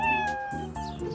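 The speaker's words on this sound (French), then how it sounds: "Il miaule." A cartoon kitten gives a drawn-out, tonal meow, close and clear over a faint backdrop with no talking.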